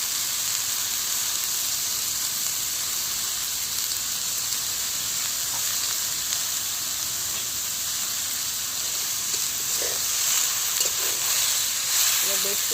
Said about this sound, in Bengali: এবার বেশ কিছুক্ষণ বিট আর আলুটাকে আমি কষে নেব।